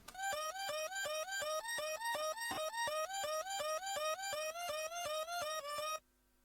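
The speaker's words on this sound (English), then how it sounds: "I actually made a vocal chop art using a pitched up syllable from the vocal," A pitched-up vocal syllable chopped into a fast, evenly repeating melodic pattern, sequenced on a piano roll, bright and stuttering with steady pulses for about six seconds, then cutting off abruptly.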